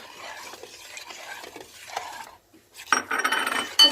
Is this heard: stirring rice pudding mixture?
yes